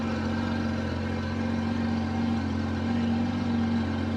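A Honda Accord engine idles quietly and steadily, a low smooth hum with a faint tonal drone, no voices.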